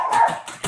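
A pet dog barks and yips close by in a home kitchen, a few quick, sharp sounds in rapid succession.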